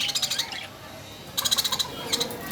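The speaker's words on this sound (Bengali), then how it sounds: "এখানে অনেকগুলো ঘুঘু পাখি আছে, আমরা এগুলো হোম ডেলিভারি দিয়ে থাকি।" Bursts of bright, rapid chirping and squawking in a Konabari, Gazipur pet bird shop stocked with doves and pigeons: three clusters of quick calls close by, separated by brief lulls over a low shop murmur.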